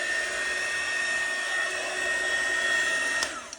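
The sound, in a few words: heat gun blowing over epoxy resin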